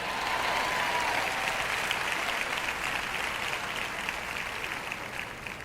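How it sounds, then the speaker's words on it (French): A church congregation applauds during a French sermon, a dense steady wash of clapping from many hands that gradually thins toward the end, with no talking over it. "Quelqu'un devrait applaudir parce que je prêche bien aujourd'hui."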